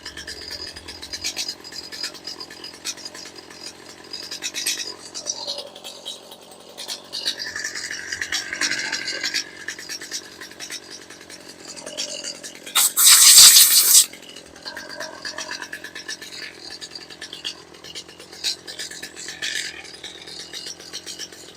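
A Stihl MS250 chainsaw with a starting fault idles unevenly, a thin rattling engine note that holds for a while, with one brief loud surge partway through.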